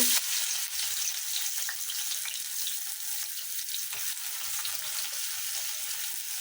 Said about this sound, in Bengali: এখন আমি পেঁয়াজ দিয়ে দিচ্ছি ভুনা করার জন্য